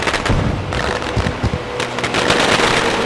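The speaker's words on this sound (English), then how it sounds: "Celebratory fireworks in the air." Celebratory fireworks burst over a motor speedway after a street stock race, with loud, dense crackling and popping in rapid clusters that fill the whole stretch without talk.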